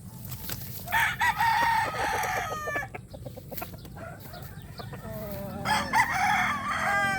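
Chickens cluck and a rooster crows nearby, repeated calls over a low steady background hum.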